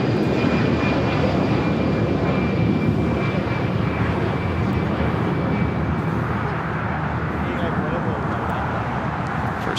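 A Delta Airlines Airbus A319 takes off at Los Angeles LAX, bound for Houston, its engines giving a loud, sustained broadband roar that holds steady throughout, with a thin whine riding above and voices faintly under it.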